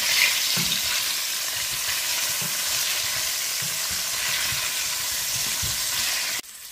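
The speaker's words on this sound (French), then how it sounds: "Et 5 minutes de friture." Spinach sauce ingredients with pre-cooked beef and cowhide fry in a pan, giving a steady, close sizzle with soft stirring knocks throughout, then dropping off abruptly at the end.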